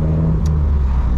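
A Peugeot RCZ THP200 Asphalt Edition petrol car on the move, its engine giving a steady low rumble and road drone heard from inside the cabin, with no voices.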